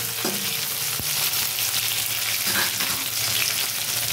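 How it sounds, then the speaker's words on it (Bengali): Tomatoes fry in a pan for arhar dal, giving a steady, close sizzle that runs throughout, with a single sharp utensil knock partway through. "যতক্ষণ না টমেটো হচ্ছে ততক্ষণ কিন্তু ভেজে নিতে হবে"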